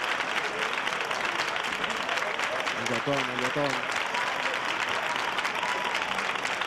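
A studio audience applauds to welcome a rapper onto a Spanish-language television show. The clapping is steady and dense throughout, and a voice briefly speaks over it around the middle.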